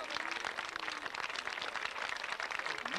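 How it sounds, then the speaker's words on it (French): Quiet, steady applause from a crowd at a cycling race ceremony honoring the best young rider's white jersey, the dense clapping heard faintly and at a distance throughout. "On va applaudir bien fort ce maillot blanc"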